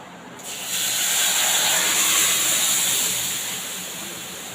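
Vegetables poured into hot oil tempered with nigella seeds, a sudden loud hissing sizzle that swells after a quiet start and then slowly eases off, close and steady without speech.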